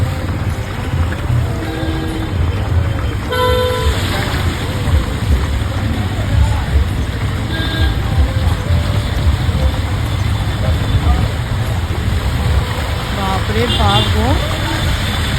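A vehicle drives through deep floodwater on a waterlogged street, its engine humming under constant sloshing and splashing, with occasional horn-like tones and a person talking over it.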